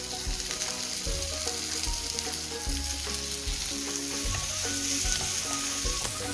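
Tomatoes and onions sizzle loudly in a pan for a Mix Veg Korma, a dense continuous frying hiss close up, with low musical tones running underneath throughout and no speech.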